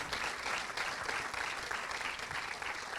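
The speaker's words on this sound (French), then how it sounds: "On peut applaudir Lucas, Raphaël et Pierrot." Sustained applause from an audience in a cinema during a live show in Lorient, a steady dense wash of clapping filling the whole stretch at even loudness with no voices on top.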